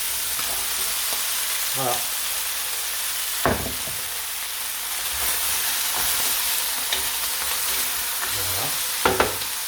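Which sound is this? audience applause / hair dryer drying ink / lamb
lamb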